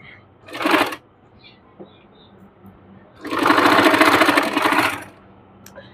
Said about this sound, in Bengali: অর্থাৎ মেন বডির উপর আমরা সেলাইটি দিয়ে নেব একদম কিনারা দিয়ে